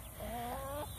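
A broody hen in a garden gives a soft, drawn-out clucking murmur, faint and close, lasting under a second.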